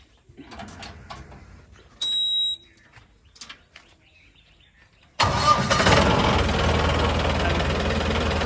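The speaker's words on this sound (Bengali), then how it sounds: "আর ইঞ্জিন ফিঞ্জিনগুলো স্টার্ট ফার্ট দেখিয়ে একদম চলুন দেখিয়ে দিই" A newly delivered van's engine starts: quiet clicks and a brief electronic beep, then the engine catches abruptly and keeps running loud and close at a steady idle.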